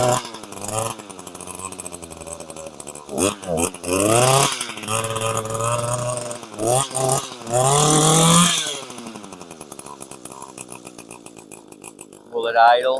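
An Echo two-stroke chainsaw engine runs up close, revving and sputtering unevenly with surges and dips as the throttle changes, struggling to settle at idle before cutting out.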